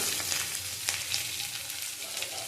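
Radish greens drop into a hot pan with dried chilli and sizzle loudly, a steady crackling fry with brief stirring scrapes, close up and with no talking.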